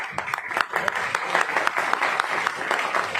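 A crowd claps on stage at a company gathering, continuous fairly loud applause from many hands with scattered sharper claps and no talking.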